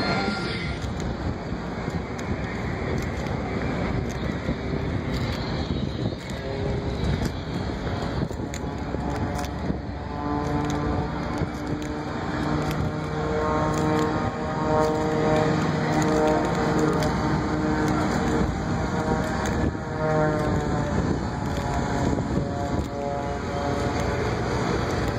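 Boeing V-22 Osprey tiltrotor aircraft flying at the 2012 MCAS Miramar airshow, a loud, sustained roaring drone with a throbbing rotor hum that swells and shifts in pitch, with faint voices underneath.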